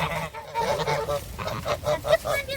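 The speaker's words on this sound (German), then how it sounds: "Aber die Gänse freuen sich." Geese in a woodland setting honking in a rapid run of nasal calls, several close birds sounding off in quick succession, loud and clear with no talk.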